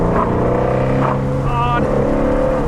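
A 2020 Shelby GT350's powerful engine drones loudly inside the car, its pitch rising as it gathers speed, with a voice briefly audible over the roar.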